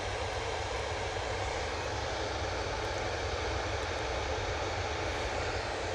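An EasyJet Airbus A320neo airliner at Manchester Airport, a continuous engine rumble and whine at moderate distance, steady with no voices.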